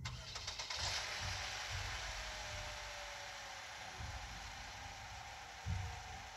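A cartoon truck engine drives along, a steady broadband rumble with soft low pulses at intervals, alone without speech.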